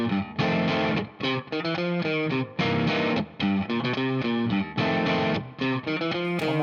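A distorted electric guitar plays the chorus of a song, with loud, choppy chords stopping and starting in a rhythmic pattern and no voice over it.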